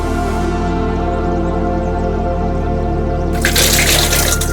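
Steady running water pours close by with a constant rushing hiss, growing louder and splashier near the end as dried fish are rinsed under it.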